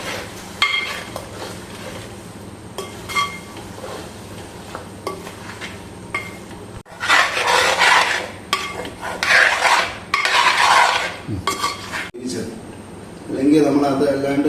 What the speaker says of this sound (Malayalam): ഇതൊന്ന് ഇളക്കി കൊടുക്കുക.